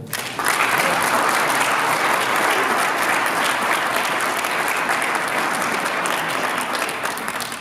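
Sustained audience applause welcoming a college football coach at a bowl team announcement event, loud, dense clapping that swells quickly and holds steady throughout without talk over it.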